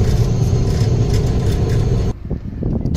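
A minibus on a self-drive trip through Xinjiang pulls up at a small-town shipping office, its mid-pitched engine rumbling loud and steady before cutting off abruptly, followed by quieter shuffling and settling sounds.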